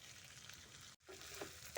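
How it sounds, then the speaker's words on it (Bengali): Beans and carrots frying together in a pan give off a steady, close sizzle, broken by a brief dropout partway through and a few brighter crackles near the end. "সব একসাথে দিয়ে আর ফ্রাই করি।"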